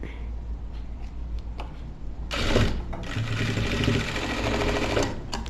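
Sewing machine stitching a folded hemming strip on a blouse, starting after a quiet pause and running in a steady, fast, close mechanical whir with a rapid needle rhythm for several seconds.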